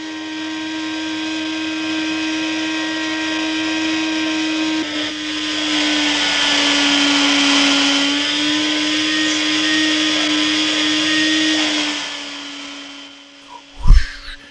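A vacuum cleaner in a Jacques Tati film whining steadily with a droning motor hum, swelling slightly louder midway, ending with a couple of sharp thumps.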